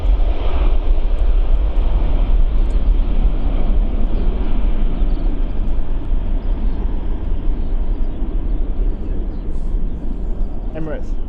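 An Emirates airliner at Stansted Airport gives a loud, steady, broadband engine roar that holds for the whole stretch, close and continuous, with talk faintly beneath it.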